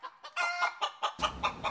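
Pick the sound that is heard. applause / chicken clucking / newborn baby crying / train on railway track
chicken clucking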